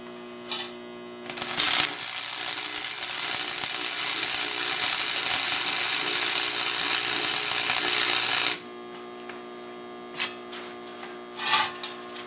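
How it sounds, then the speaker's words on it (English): Welding along the seam of a 16.5-inch Jeep wheel bead lock: a loud, steady broadband crackle and hiss runs for about seven seconds and then cuts off, followed by a few short clanks. "I'm gonna weld up the seam"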